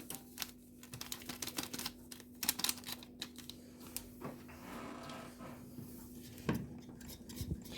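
A utensil stirs cake batter with cream and vanilla sugar in a bowl, giving a steady run of quiet clinks and scrapes at close range with no voices.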